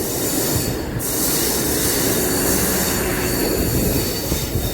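The new Guntakal–Markapur train moves onto the outer line during its inaugural run, its wheels squealing loudly and steadily over a close, heavy rolling rumble.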